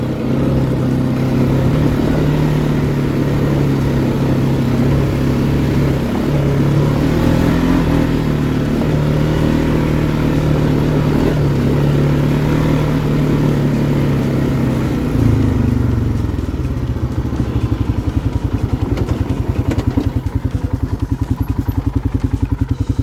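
An ATV ridden over rough, technical obstacles with its sway bar disconnected: a loud, steady engine drone with revving and shifts in pitch, and clattering toward the end.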